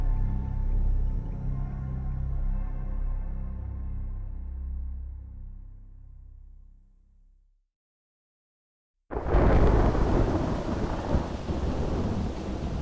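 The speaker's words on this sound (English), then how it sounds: "Rain drums idly on the roof of the Land Cruisers, and water streams down the windows." Deep thunder rolls and slowly fades into a moment of silence, then heavy rain abruptly starts drumming steadily and loudly on the roof of the Land Cruisers.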